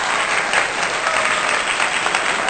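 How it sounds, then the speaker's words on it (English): A live crowd gives a steady, enthusiastic round of applause for performers at a show, dense clapping that stays even and loud throughout with no voices standing out. "Let's get it made round of applause."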